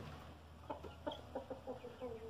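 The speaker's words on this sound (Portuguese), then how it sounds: "E também, galera, aqui tem uma galinha chocando." A brooding hen sitting on a clutch of eggs on a rural farm gives a series of soft, low clucks at close range over a steady background hum.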